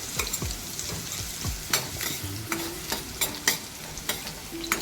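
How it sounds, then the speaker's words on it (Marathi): Garlic sizzles in a hot pan for a fish fry, a steady close crackle with repeated scraping strokes of a spoon stirring through it. "एक दोन मिनिट लसूण चांगलं परतवून घेऊया"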